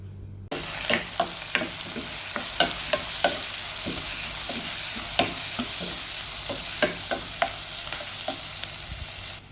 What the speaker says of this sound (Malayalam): അതിട്ടിട്ട് നന്നായി ഇളക്കി കൊടുക്കുക.